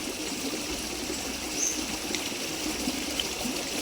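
River water flowing steadily beside bamboo and trees along the bank, a constant close rushing and trickling with no voices over it.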